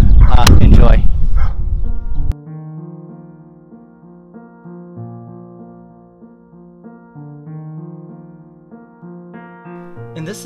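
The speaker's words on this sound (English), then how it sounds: "Hopefully the dogs aren't barking in the background." Dogs barking loudly and close for about two seconds in a rough burst of overlapping barks, followed by soft, steady instrumental music.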